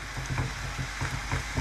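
Noodles frying in a frying pan, a close, loud sizzle with rhythmic stirring or scraping pulses every few tenths of a second, no talk.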